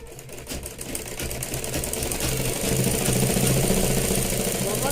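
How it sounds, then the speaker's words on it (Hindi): A sewing machine stitches a blouse lining onto the fabric, its motor whirring in a steady, continuous run that grows slightly louder and busier partway through, close by with no talk. "सिर्फ इस कपड़े को इसके साथ पकड़ते हुए एक सिलाई लगा लेनी है ताकि ये दोनों कपड़े एक साथ अटैच हो जाएं।"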